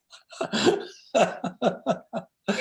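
A burst of short, sharp coughs comes in a quick series, close and fairly loud, with brief pauses between each hack.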